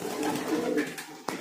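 A pigeon coos softly in a Delhi pigeon shop, one low rolling call close by, followed by a short sharp knock at the end.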